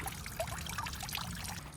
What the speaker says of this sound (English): they'll get this splatter from the fountain and just get kind of a nice misty watering